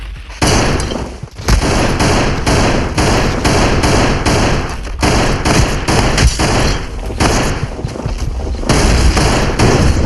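Rifle gunfire in the Voxel Playground video game, loud and continuous rapid shots forming a dense fusillade after a brief pause near the start.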